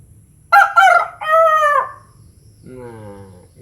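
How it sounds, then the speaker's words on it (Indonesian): A rooster crows once, close and loud, in a rising then falling cock-a-doodle-doo, and a softer, lower crowing call follows against a quiet background. "Ini suara ayam berkokok ini, pemirsa ya. Suara ayam berkokok."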